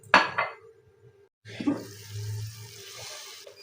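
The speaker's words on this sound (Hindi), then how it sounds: "थोड़ा पानी डलेगा।" Water is poured into fresh minced meat cooking in a pan for a green chili keema dish: a couple of short clanks, a pause, then a steady close splashing pour lasting about two seconds.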